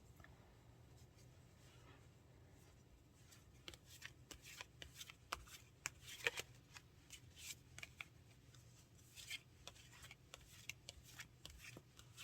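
Tarot cards are shuffled by hand close by, soft riffling and sharp papery snaps and taps coming in irregular bursts over quiet background, getting busier partway through.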